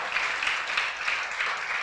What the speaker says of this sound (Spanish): le da un aplauso a Dios, hermanos, por su palabra, por su promesa